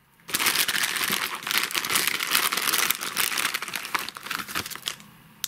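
A small plastic bag of fishing tackle, hooks and rigging crinkles and rustles continuously for about five seconds, close and fairly loud, with no talking.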